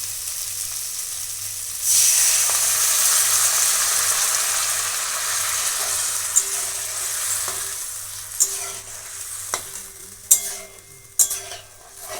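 Hot water is poured into frying tomato masala, setting off a loud hiss that settles into a steady simmer, and then sharp spoon knocks and scrapes follow as it is stirred.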